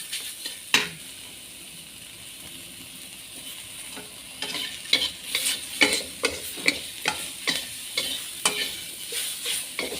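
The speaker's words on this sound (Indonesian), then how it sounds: "Terus kita ongseng terus, tumis terus." Oncom seasoned with salt is stir-fried in a pan, producing a soft sizzle under repeated scraping and clattering strokes of a spatula that grow busier and more rhythmic partway through.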